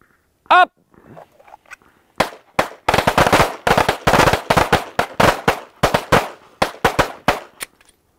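Handgun drawn and fired at a numbered dot target during a shooting test, a rapid string of sharp, loud shots in quick bursts, preceded by one brief ringing tone and faint background noise.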